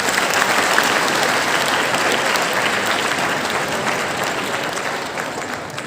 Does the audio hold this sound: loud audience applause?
yes